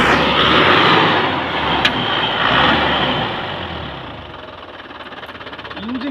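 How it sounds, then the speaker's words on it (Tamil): Diesel engine of a Chevrolet Tavera revving, a loud steady broadband roar close by that swells and eases, with a brief knock partway through and a faint tonal whine near the end. "பாருங்கள், இன்ஜின் ரேஸ் பண்ணுறேன்"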